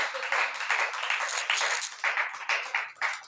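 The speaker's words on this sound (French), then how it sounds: "Applaudis pour le Seigneur." A church congregation clapping together, a quick steady rhythm of many hands in a fairly close, bright room, sustained for a few seconds without any voices.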